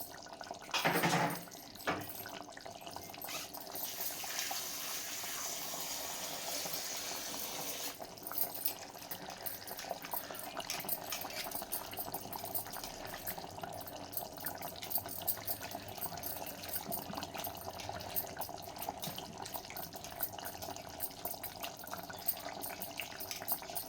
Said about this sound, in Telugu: కొత్తిమీర శుభ్రంగా కడిగి వేస్తున్నానండి